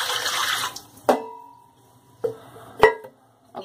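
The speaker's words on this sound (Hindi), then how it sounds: "अब इसके अंदर पानी डाल देंगे।" Water pours into a metal pot at close range, a short splashing stream that fades, followed by a few sharp clinks and knocks of the pot in a quiet kitchen.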